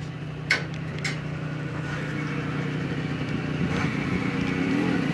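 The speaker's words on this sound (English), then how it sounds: "it sounds like my brother and my dad's got back from motorbiking" Motorbikes arriving home after a ride, engines rumbling steadily nearby at a low idle-like drone for several seconds, with a couple of brief sharper knocks early on.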